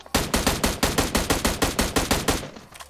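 A close, rapid automatic burst of gunfire in PUBG Mobile sounds as about a dozen evenly spaced loud shots over two and a half seconds, then stops abruptly.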